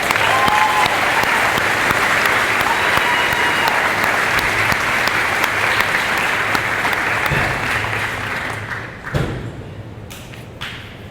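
At a high school awards ceremony, a school audience gives a loud, sustained round of applause that fills the hall, then thins and tapers off into scattered claps near the end.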